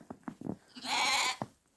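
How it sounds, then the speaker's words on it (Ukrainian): Sheep bleat in a farmyard: a few short low calls, then one long, loud, wavering bleat, followed by another brief call, fairly close and with no talk over them. "На дворі вівці."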